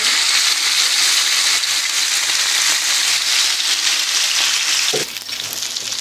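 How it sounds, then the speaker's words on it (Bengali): Rui fish pieces fry in hot oil, a loud, steady crackling sizzle that fills the whole stretch, with one brief soft knock near the end as the hiss eases slightly. "বন্ধুরা এখন আমি লাল করে মাছগুলিকে ভেজে নেব"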